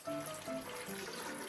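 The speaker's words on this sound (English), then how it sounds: "now we pour water right in." Water pours steadily into a bucket of sea salt mix, a faint continuous trickling and splashing with a slowly shifting pitch as the bucket fills, alone with no talk.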